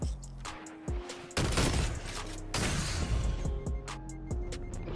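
Rapid gunfire bursts from a competitive Destiny 2 match, sharp repeated shots in quick clusters with a few heavier booms, loud and close, no voices over them.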